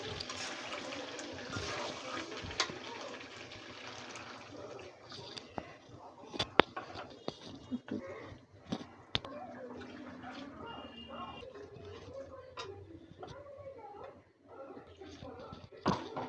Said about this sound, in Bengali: আড়াই কাপের মতো পানি দিয়ে দিলাম।